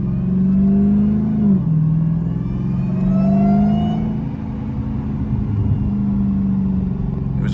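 A 900 hp supercharged Dodge Hellcat drives in street mode, its engine rumbling loudly and steadily, with a rising whine and a pitch dip near the start.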